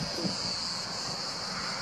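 Cicadas droning steadily in the French countryside, a continuous high-pitched buzz filling the whole stretch with faint wind noise underneath and no voices.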